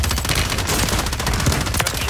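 Gunfire in Warzone 3, a loud, dense barrage of rapid automatic shots with overlapping bursts and booms filling the whole moment without pause.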